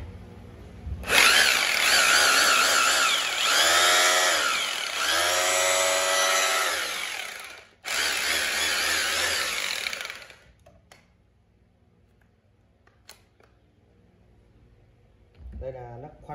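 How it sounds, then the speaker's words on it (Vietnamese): A three-function concrete hammer drill runs loudly for about nine seconds with a wavering, rising and falling motor whine, cuts out briefly, then runs again before stopping, leaving near silence with a faint voice at the end. "Số 23 là con khoan bê tông 3 chức năng."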